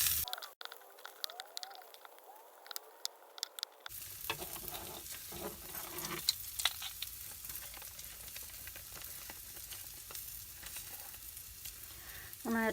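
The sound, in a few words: flour mixed into sausage grease frying in a mini skillet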